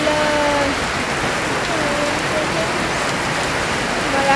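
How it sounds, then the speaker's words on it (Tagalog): Heavy rain pours down continuously, a loud dense hiss of drops drumming on surfaces near a second-floor building, steady throughout with no clear pause. "Grabe yung lakas ng ulan."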